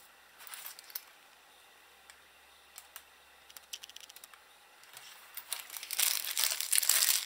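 A mini wallet's plastic packaging is opened, a faint crinkling and rustling that starts sparse with small clicks and grows into steady, louder crumpling toward the end, with no talk.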